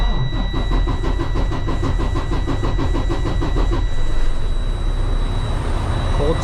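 A semi truck's diesel engine cold-starts after sitting two weeks, a rapid rhythmic cranking chug catching into a rough idle, loud and close.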